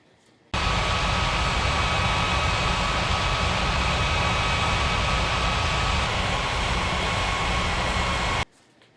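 A fixed-wing passenger plane lands on runway 18, its engine roar loud, broad and unbroken for about eight seconds. The roar cuts in and out abruptly, with no voices over it.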